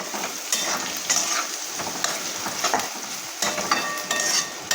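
Fried onions seasoned with salt and turmeric are stirred in a pan, giving a steady sizzle with repeated scraping strokes of a spoon at a close, even level, and no talking.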